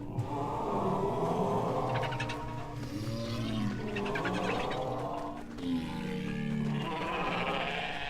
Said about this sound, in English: Oh, goats.